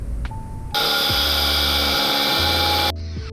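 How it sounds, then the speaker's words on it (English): Power tool sanding a small metal plate on a van, a loud high-pitched whine starting abruptly and running for about two seconds before cutting off. "we're sanding down a little plate for the area to weld that little plate back onto the holes"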